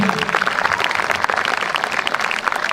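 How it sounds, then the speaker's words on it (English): Crowd applause for Sister Beni at a school sports day, a dense, steady wash of many hands clapping that carries on without a break. "So give a big clap for Sister Beni"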